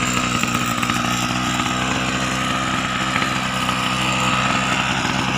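A Kubota SK34 brush cutter with its two-stroke engine running, a loud, close, buzzing drone that holds at a steady high idle throughout, with no voices.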